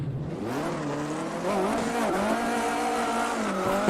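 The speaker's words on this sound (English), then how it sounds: "Usually the tire squealing noise is kind of jumped up in sims a bit so that you can hear what the tires are doing" A 1958 Formula One car in an online racing simulator at Silverstone squeals its tires with a wavering tonal screech over the steady engine drone, loud and continuous for a few seconds.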